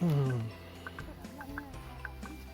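A few soft clucks from chickens pecking at rice grains in straw, scattered over a quiet outdoor farm background, with a louder low sound at the very start.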